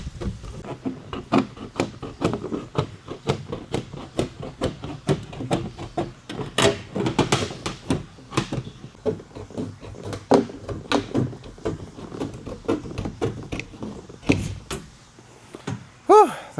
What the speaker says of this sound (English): This is so thin, I'm actually cutting it with snips.